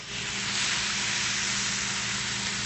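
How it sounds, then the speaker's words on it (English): Salsa sizzles loudly in a hot pan, a dense, steady hiss that rises at the start and holds evenly throughout, close and without talking. "Yeah, you can hear that sizzle."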